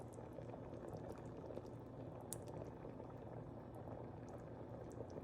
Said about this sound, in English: This has been simmering for a bit